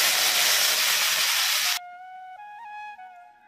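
Water poured onto greens in a hot kadai sets off a loud, dense steaming hiss that runs for nearly two seconds and then cuts off abruptly, leaving soft tonal sounds behind.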